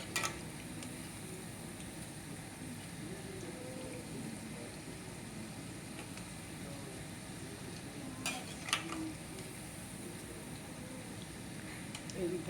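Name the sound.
onion pakoda frying in oil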